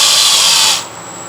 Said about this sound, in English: when the drill is going, you want to slow it down just like you're braking as things get tighter